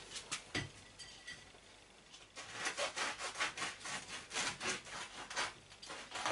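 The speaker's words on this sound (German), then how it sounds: "Ich schneide mal eins auf, damit ihr auch seht, wie sie innen drin ausschauen" A knife saws back and forth through a crusty, freshly baked oat flake bread roll, giving a steady series of close, rasping strokes that grow louder and more regular toward the end, with no talk.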